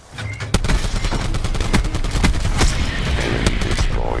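KN-57 assault rifle fire in Black Ops 4, a rapid string of sharp, loud gunshots with clustered bursts and heavy booming impacts layered over a busy combat din.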